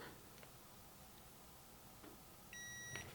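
Outin Mino portable espresso maker giving a short electronic power-on beep, a brief steady tone near the end of a quiet stretch with faint ticking and handling noises.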